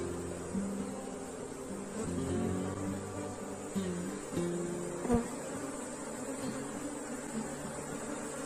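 A honeybee swarm buzzing at the hive during hive work, a steady soft drone of many bees with individual bees flying close by, and a few faint clicks and knocks.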